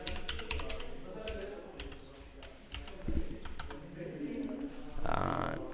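Typing on a computer keyboard while entering login details for a developer service: scattered close key clicks in irregular bursts, with a soft voice murmuring in the background.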